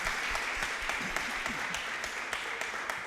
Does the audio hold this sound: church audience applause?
yes